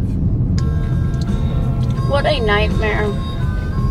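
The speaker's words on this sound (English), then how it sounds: "There's just huge buses and semis coming through, and then there's little motorcycles." Heavy road traffic of buses, semi trucks and small motorcycles on a potholed road in a Mexican beach region, a steady rumbling engine drone heard from inside a vehicle, with a person exclaiming over it midway.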